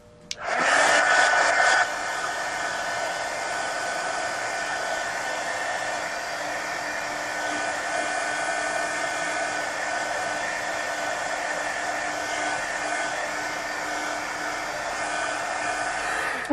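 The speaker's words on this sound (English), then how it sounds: "I'm going to dry it again because the glue is wet underneath" A hair dryer blows steadily on a mixed media napkin journal page to dry wet glue, starting loud for a couple of seconds and then settling into an even, continuous whir that runs throughout.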